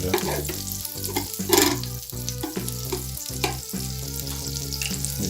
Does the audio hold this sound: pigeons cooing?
no